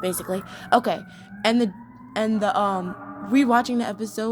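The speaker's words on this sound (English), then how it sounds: "Sorry about the sirens in the background." A siren wails steadily in the background, its tone slowly rising and holding beneath someone talking in the foreground.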